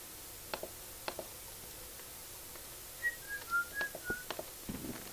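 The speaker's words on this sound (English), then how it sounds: "Sorry, I'm whistling a lot. Whistling while I work." A person whistles a few soft, short notes while working at a computer, faint against quiet room tone and scattered light clicks and taps.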